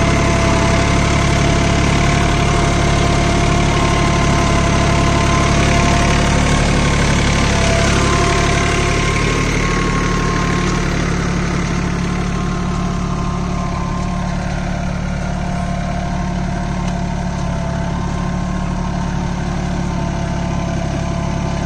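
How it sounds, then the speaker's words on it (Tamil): Swaraj Target 630 4WD mini tractor pulling a heavy cultivator, its engine running at a steady, loud drone with a constant knocking rumble that continues without a break and with no voices. "ஒரு 200 RPM டிராபேஜில் வண்டி ஓடிட்டுருக்கு."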